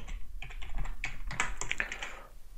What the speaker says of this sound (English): So let's just quickly start typing until we reach remainder.